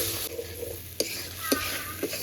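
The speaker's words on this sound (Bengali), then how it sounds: "সব কিছু দিয়ে খুব ভালোভাবে মশলাটা কষাবো।" Spice paste with salt, turmeric and coriander powder stir-fried in a pan for a fish curry, a soft sizzle broken by three or four distinct spoon taps and scrapes, no voices.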